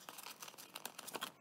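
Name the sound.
small scissors cutting paper organizer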